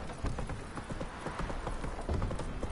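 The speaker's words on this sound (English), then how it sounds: "Can I seriously not bring a horse through there?" Horse hooves clip-clop steadily in The Witcher 3, a fast, even run of hoofbeats at moderate loudness, with no talking over them.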